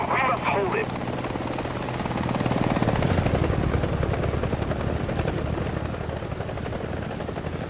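A helicopter in War Thunder thumps with a steady, rapid rotor beat that swells louder midway and holds near, with a voice speaking over it at the start.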